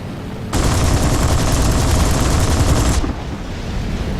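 Aircraft guns strafing ground targets in War Thunder fire in one loud, continuous rapid burst that lasts about two and a half seconds. The burst then cuts off into a steady engine drone.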